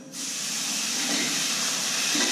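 Lagavulin whisky hits a hot pan for pepper steak and bursts into a loud, sustained steamy hiss that holds steady for a couple of seconds, close and alone.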